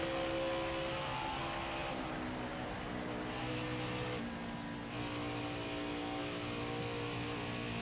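A steady droning NASCAR race car engine in a video game holds a constant pitch, easing off the throttle briefly midway before resuming, loud and continuous with no talking.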